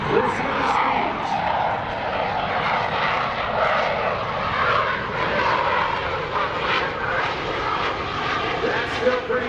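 F/A-18C Hornet fighter jet making a slow high-angle-of-attack pass at a naval air station airshow, a broad steady roar with a crowd-level background, and an announcer talking over it.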